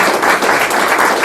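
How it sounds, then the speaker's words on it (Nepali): A brief, loud round of clapping from an audience welcoming a municipal ward chairman to the stage at a church land-donation ceremony, dense and close with no speech. "फेरि ताली बजाएर स्वागत गर्नेछु राजकुमार सिलवारज्यू"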